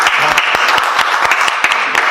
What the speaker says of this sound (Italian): Intanto vi farei un applauso.